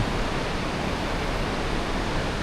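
Water rushes steadily out of a cave mouth at the Xe Bang Fai river cave, a dense, even roar like a waterfall, loud and close, with no voices over it.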